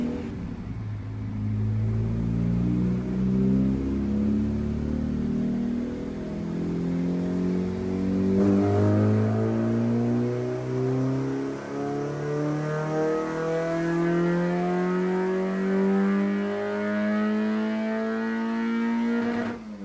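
A Honda D16 engine under a Fueltech ECU revs on a dyno run toward an 8,000 rpm limit, a loud, sustained engine note that climbs steadily in pitch through repeated gear pulls with a droning hum underneath.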